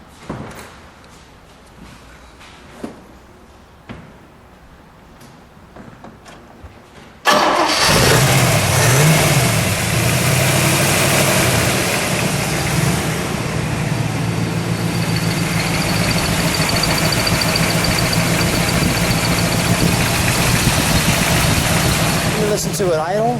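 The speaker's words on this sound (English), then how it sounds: "can we start this one up?" A maroon 1961 Chevrolet Corvette convertible with dual exhaust cranks and fires after a few quiet clicks, settling into a loud, steady rumbling idle that runs unbroken, with voices audible underneath.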